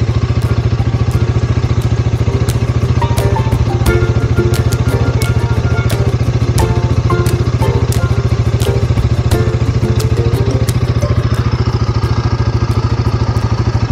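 A Royal Enfield Himalayan 450 motorcycle engine idles with a steady, even, rhythmic thrum while its chain is being lubed, close by, with clicking spray ticks and light clatter over the top.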